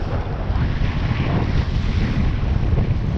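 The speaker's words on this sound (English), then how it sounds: "Oh wait, it's kind of windy though," Wind at the beach buffets the microphone in a loud, low, rumbling roar, and a faint wash of surf sits beneath it, continuous and close throughout.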